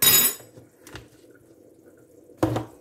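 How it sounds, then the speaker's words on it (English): A drop of cold water poured into a spoonful of corn flour for a thickening agent: two short, quiet splashy trickles separated by a pause, with no talking. "and a drop of cold water"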